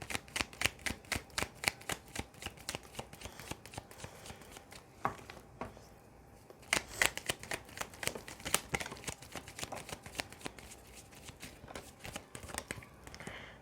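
Tarot cards are shuffled and drawn by hand, giving a steady run of crisp flicking and slapping taps, close and fairly loud, with a brief pause partway through.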